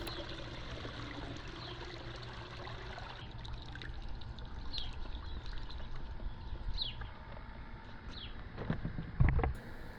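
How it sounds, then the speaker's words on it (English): A Beatbot Sora 30 pool cleaning robot, lifted out of the pool, drains water through its smart drain system, a low churning gush and trickle with a few splashes near the end. "Now that we have the Sora 30 out of the pool, you may hear it continue to churn along. This is the smart drain system."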